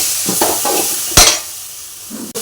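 Tomatoes tipped into a hot pan for bitter gourd curry, with a loud burst of sizzle as they land, then a steady frying hiss and some stirring scrapes before and after.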